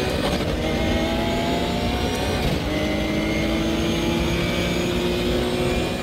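A RUF RT12R GTR3 race car at Imola in the RaceRoom video game drones loudly and continuously on throttle, its engine note shifting pitch partway through and holding steady to the end.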